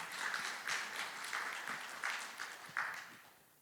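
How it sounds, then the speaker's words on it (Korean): An audience at a keynote session of a business convention claps in a series of rhythmic bursts of applause, moderately loud and fading out toward the end. "박수를 부탁드리겠습니다."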